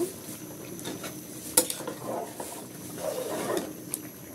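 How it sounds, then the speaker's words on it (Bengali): Mezbani beef sautéing in a pot as its oil begins to separate, with soft scraping and stirring strokes, a few sharper clinks of a spoon against the pot, and a low, steady sizzle underneath. "আমি আরো একটু কষিয়ে নেব,"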